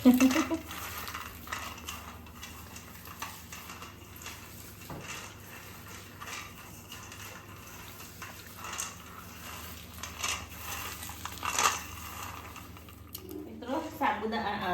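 Soft dry rustling and rubbing of roasted peanuts between hands to remove their skins, with intermittent crackly bursts and a voice speaking at times.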